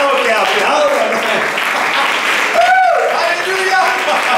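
A church congregation applauding during a Friday worship service, a dense, steady wash of clapping that lasts throughout while a preacher's voice calls out over it.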